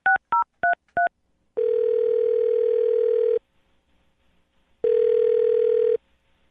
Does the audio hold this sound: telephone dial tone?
yes